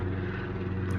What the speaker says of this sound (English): sorry about the noise, got a helicopter going over there.